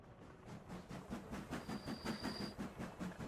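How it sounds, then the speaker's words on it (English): Video game train rolling along rails, a steady clickety-clack of wheel beats repeating in even rhythm over a continuous rumbling hiss, fairly close and moderately loud, with no talk. "I hear train."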